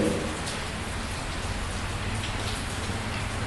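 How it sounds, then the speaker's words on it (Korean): Steady rain falls outside during a Sunday church service in Wake Forest, a dense, even patter of drops on surfaces that holds at a constant moderate level throughout with no voices. "지난주에 우리가 여기서 예배드리는 8개월 동안 비 한 번 안 왔다고 해도 좀 비가 오거든요."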